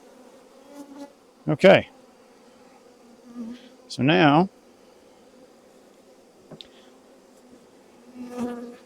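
Bees from a caught swarm drone steadily around a pair of hive boxes set close together, a constant low buzz under brief bursts of talk.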